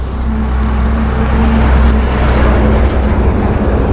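A road vehicle rumbles past outside, a steady low engine and tyre roar that holds fairly loud throughout and eases slightly near the end, heard through a budget microphone with no one speaking.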